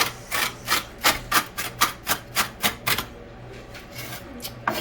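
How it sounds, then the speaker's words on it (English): Knife chopping bacon slices on a board during home shrimp-and-grits cooking: a quick run of about a dozen sharp, evenly spaced chops, then softer, sparser taps, close by with no talk. "just trying to chop the bacon"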